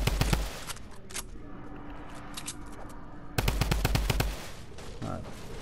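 Video game gunfire: two bursts of rapid automatic fire crack loudly near the start and again after a pause, with quieter in-game ambience between them.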